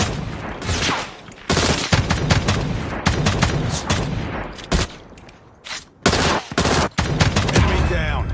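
Rapid bursts of Jak-12 automatic shotgun hip fire in a battle royale video game, loud booming blasts in clustered volleys with brief pauses between them, close and dominant throughout.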